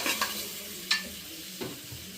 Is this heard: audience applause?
no